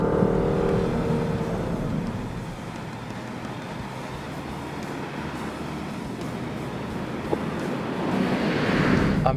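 A Lexus IS350 F-Sport sedan drives along with a continuous road and engine rumble and wind noise, building slightly toward the end as it accelerates.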